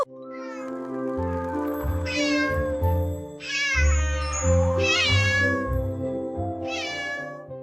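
A pet cat meows over and over in clear, drawn-out calls, close and fairly loud, with brief pauses between the repeated cries and no talking.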